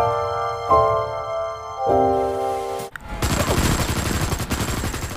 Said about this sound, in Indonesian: pasukan militer tentara Korea Selatan dan Korea Utara yang tengah berselisih dengan melakukan tembakan di udara